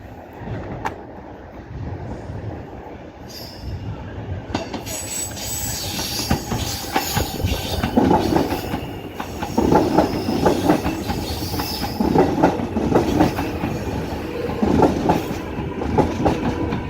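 A train on Melbourne's Belgrave Line rumbles past nearby with rhythmic clattering wheels and occasional metallic squeals, growing louder through the middle and staying steady to the end.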